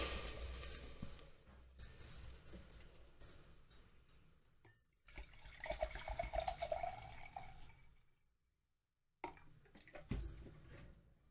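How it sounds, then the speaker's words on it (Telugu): Water is poured into a pot holding fried toor dal, onion and tomato for hotel-style idli sambar, quiet splashing and trickling in uneven bursts with short pauses and a silent gap between pours. "వాటర్ యాడ్ చేసుకోవాలి అండి."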